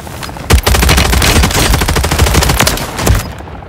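Sustained automatic gunfire from a Call of Duty: Modern Warfare 3 Ground War match, rapid bursts filling the whole stretch with a few heavier booming shots, loud and close with no talk.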